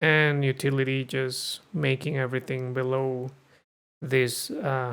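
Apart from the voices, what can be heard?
No everyday noises stand out.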